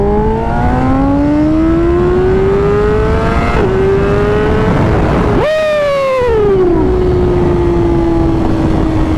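A fast sport motorcycle revving hard while being ridden, its engine pitch sweeping up through gears with a sharp shift break and a loud surge midway, close and continuous.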